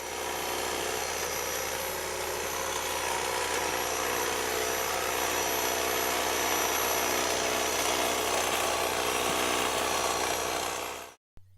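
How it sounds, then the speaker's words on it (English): An electric hedge trimmer runs continuously with a dense, buzzing motor whine at steady loudness for about eleven seconds before abruptly cutting off, with no voices. "Working method and the efficiency of this electrical model is similar to the petrol hedge trimmer."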